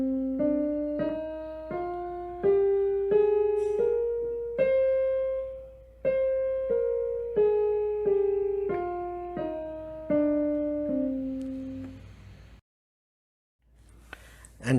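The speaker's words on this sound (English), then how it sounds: "The C natural minor would sound something like this." A C natural minor scale climbs and then descends one note at a time, each tone struck clearly and left to ring and fade, at an even pace, followed by a brief silence.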